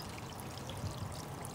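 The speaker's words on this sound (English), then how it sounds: "You can tell a lot with what's going on with the creek as well, because sometimes it's louder and sometimes it's softer." A creek burbles and trickles in a quiet, continuous wash of water with small gurgling pulses, heard close and soft for a brief moment without any voices.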